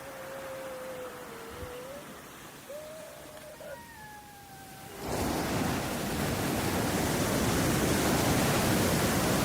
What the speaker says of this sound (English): The deafening sound of waves, the only thing that you can hear clearly